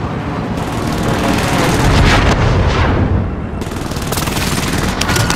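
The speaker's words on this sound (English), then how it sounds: "Enemy precision airstrikes." Precision airstrike explosions in Call of Duty: Warzone, a loud continuous rumble of overlapping blasts and rapid gunfire-like cracks that swells and briefly dips before surging again.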